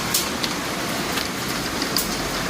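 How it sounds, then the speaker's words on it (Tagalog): A hailstorm with ice and rain pelting surfaces outside, a constant rushing hiss broken by scattered sharp ticks and impacts, no voices. "May ulan na ice. Lakas oh. Hailstorm na naman to."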